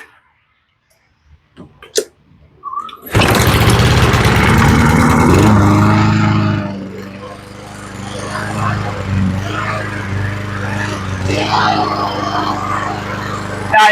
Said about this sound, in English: I can hear the idle fluctuating, and that's just a governor spring.